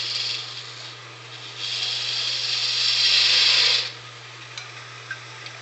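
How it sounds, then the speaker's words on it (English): Wood turning on a lathe as a parting tool cuts into the spinning blank for a Christmas ornament, giving a steady scraping hiss that swells for a couple of seconds over a constant motor hum, then drops away. "Use the parting tool and just kind of get it laid out a little bit."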